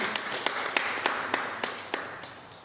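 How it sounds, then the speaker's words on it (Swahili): An audience claps in slow, evenly spaced beats, about ten distinct claps in a steady rhythm over a quiet background. "Piga makofi katibu."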